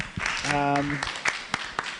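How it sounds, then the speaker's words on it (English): An audience at a careers-in-modeling dialogue session starts clapping for a speaker: a voice talks first, then a few scattered claps follow, sparse and near. "Let's clap for him."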